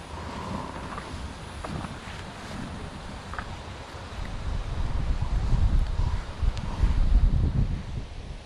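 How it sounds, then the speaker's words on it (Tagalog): Wind gusts roar into the microphone, growing stronger and rumbling loudly in the second half, with a faint rustle. "Lakas mo ng hangin na yun."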